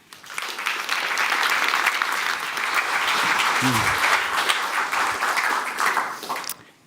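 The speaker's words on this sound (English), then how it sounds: "I would like to ask you to give him a warm round of applause." An audience at an evening talk in Amsterdam breaks into sustained, loud applause welcoming the speaker, steady clapping filling the room for several seconds before fading out.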